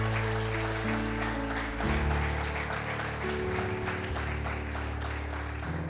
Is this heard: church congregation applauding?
yes